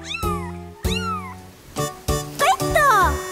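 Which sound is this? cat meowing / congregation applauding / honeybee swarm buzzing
cat meowing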